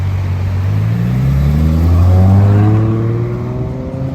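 A Ferrari F12 TDF pulls away from a red light on a Paris avenue, its V12 climbing loudly through rising gears, close and dominant, then easing as it moves off.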